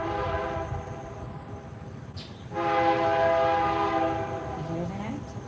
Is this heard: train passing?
yes